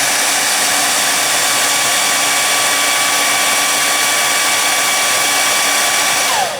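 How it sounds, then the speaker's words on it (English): A hair dryer blows loudly and steadily at close range outdoors in freezing weather, warming the mechanical clock of a 1964 Dodge Polara; its whine is unchanging until it winds down at the very end. "So I thought I'd come out here with a hairdryer and try to warm up this clock."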